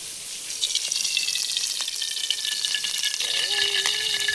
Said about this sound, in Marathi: कढई टाकली आता तेल टाकून घेते